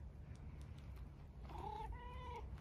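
A stray black cat gives two soft, distant meows in quick succession, faint over low outdoor background rumble.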